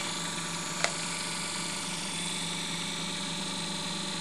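A prototype dual-break rotary spark gap motor spins at about 1500 RPM on 20 volts, giving a steady buzzing drone with a faint rhythmic whir and a single brief click early on, close and unbroken.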